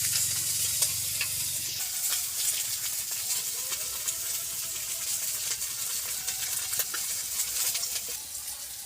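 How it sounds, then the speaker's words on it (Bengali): Small koi fish fry in hot oil in a kadai, cooked until crisp, a steady bright sizzle with occasional crackles and pops running continuously throughout, no voices. "মাছটাকে আমি ভালো করে মচমচে করে ভেজে নেব"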